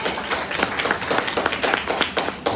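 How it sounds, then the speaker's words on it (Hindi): Crowd applause at a Asclepius Wellness mega show welcoming the next speaker, Suresh Kumar, steady dense clapping from a large audience throughout. "तो जोरदार तालियां सुरेश कुमार सर के लिए।"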